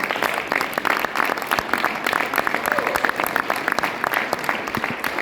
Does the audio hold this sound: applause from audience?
yes